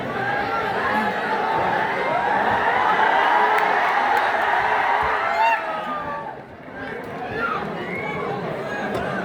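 A large crowd packs an auditorium, producing a dense, steady roar of chatter and shouting that stays loud throughout, dips briefly, then swells again.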